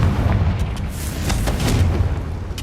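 A Confringo explosion spell going off in the Hogwarts Legacy video game gives a rumbling, booming blast with crackling bursts. It holds loud and steady for the whole stretch, with no talk over it.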